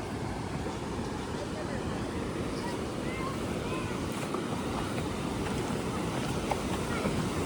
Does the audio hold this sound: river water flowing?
yes